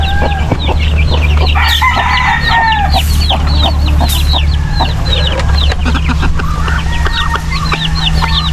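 Chickens cluck steadily and a rooster crows now and then around a backyard coop where young chicks are being moved, the birds close and busy against a constant low hum, with no talk.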